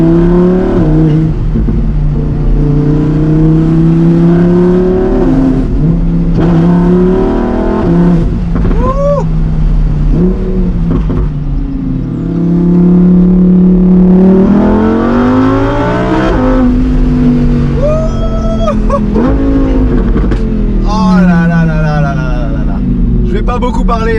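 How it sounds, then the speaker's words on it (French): Lamborghini Huracan Performante V10 revving hard on an opening road, loud and close, rising and falling through gears with crackling pops on downshifts, while someone talks over it throughout. "le V10 va pouvoir s'exprimer. Oh là là, comment ça pète au rétrogradage"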